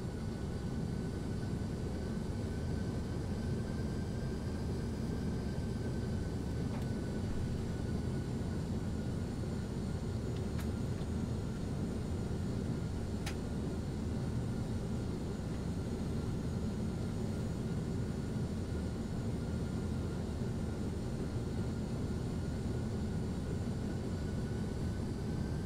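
A Boeing 737-800 in a flight simulator game, flying on approach: a steady broadband engine drone fills the whole stretch at moderate level, with a faint tonal whine above and no talk.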